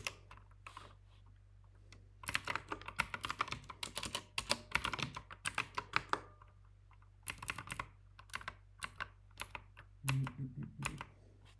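Computer keyboard typing while Python code is written, delivered as quick irregular bursts of soft clicks and taps with short pauses between runs, close and fairly quiet.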